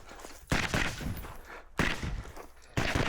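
Three sharp shots ring out close by at roughly one-second spacing during a shooting competition stage, each a loud broadband crack with a decaying tail.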